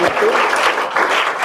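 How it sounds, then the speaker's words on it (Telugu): Loud, sustained audience applause for a donor who gave one lakh rupees, dense clapping filling the hall with a slight dip midway, with a voice faintly underneath. "వారిని మనం అందరం కూడా చప్పట్లతో అభినందిస్తూ"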